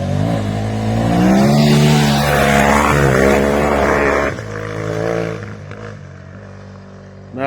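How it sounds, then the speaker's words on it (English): A KTM 950 V-twin adventure motorcycle passes at full throttle on a hilly dirt track, a loud rising engine roar that peaks close by, then fades into the distance as it moves away. "Nothing sounds better than a V-twin at full song."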